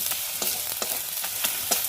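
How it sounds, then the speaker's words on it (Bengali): A spoon stirs fried spice masala in a hot pan, a steady broadband sizzle with several scraping strokes in an even rhythm, close and fairly loud, no voices. "অল্প করে ভাজা মশলাটাও নিয়ে এসেছি, এর মধ্যেই দিয়ে দিলাম, দিয়ে এবারে নেড়ে ভালো করে কষিয়ে"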